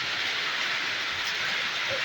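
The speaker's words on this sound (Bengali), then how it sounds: "পুরা বৃষ্টি নেমে গেছে, পুরা বৃষ্টি তুফান এসে গেছে আসামে।" A dense, steady hiss of heavy rain in a storm in Assam pours continuously, loud and even, with no voices.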